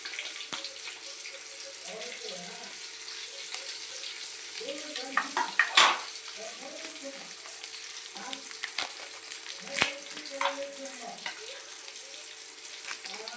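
Whole spices and a couple of leaves fry in oil, a faint, low crackle under scattered clatter and a few sharp knocks of a utensil against the pot, with no voices.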